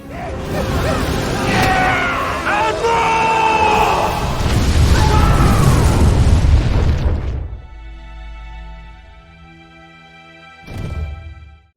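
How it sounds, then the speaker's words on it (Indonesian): A deep, rumbling explosion of barrels packed with explosives roars loudly for several seconds, then fades into a low ringing hum, followed by one more short burst near the end. "Dan ledakan dahsyat pun terjadi."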